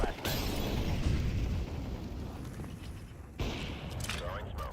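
Grenade and flashbang blasts in the Counter-Strike 2 video game, a dense, loud broadband rumble of explosions and gunfire running throughout, with a sharp drop and renewed burst near the end, as a player talks over it.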